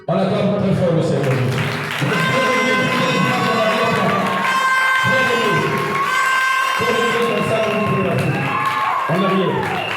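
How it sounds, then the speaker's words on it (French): Church congregation cheering and acclaiming the Lord during a French-language sermon, a loud, sustained crowd roar with shouts and claps. It holds steady for the whole stretch and dips briefly a few times. "On acclame très fort le Seigneur."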